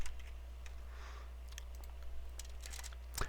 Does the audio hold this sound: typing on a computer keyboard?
yes